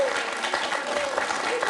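Studio audience of a French TV quiz show applauding, a dense, steady wash of clapping with a faint tonal sound passing through, brief and fairly close.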